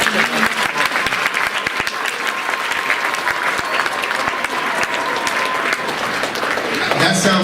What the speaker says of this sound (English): Give the kids another round of applause.